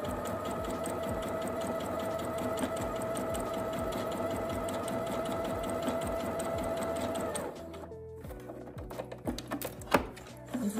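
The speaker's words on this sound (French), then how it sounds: "Sur le côté droit, nous allons coudre 2 fils de fronce." A sewing machine runs two parallel rows of long gathering stitches along the side of a skirt, a steady close mechanical whirr that stops partway through, followed by faint handling clicks and taps.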